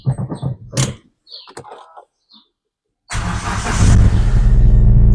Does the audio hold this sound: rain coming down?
no